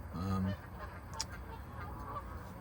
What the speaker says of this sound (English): The fucking geese have moved in now. And the bastard things are squabbling all over my fucking area.